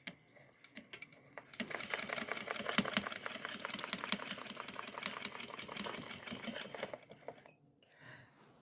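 A sewing machine stitches around small paisley circles on a DIY clutch bag, a fast, close rattling run with brief stops and restarts, starting in short bursts before settling into a longer continuous stretch.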